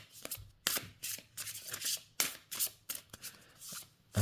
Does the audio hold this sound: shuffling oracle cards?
yes